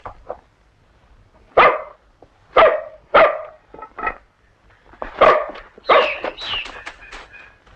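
Tumang the dog barks loudly and close by, several sharp separate barks followed by a quicker cluster of yips and whining barks.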